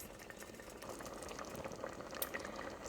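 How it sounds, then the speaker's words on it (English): A pot of creamy chili made with chicken broth boils steadily, with continuous bubbling and popping close by and fairly quiet, and no voices. "We are boiling."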